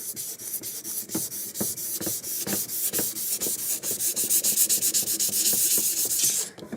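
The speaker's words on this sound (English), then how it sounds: "It is powdering up nicely, and it's not gumming up my sanding block." Sanding block rubbing over a lacquer finish on wood, producing a steady close-up run of rhythmic back-and-forth scrapes, roughly two strokes a second, loud and alone with no talk.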